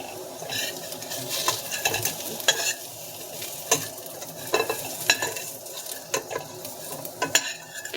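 Potato pieces frying in a pot just used to caramelize yam, a close crackling sizzle punctuated by repeated scraping and clinking as the pieces are stirred.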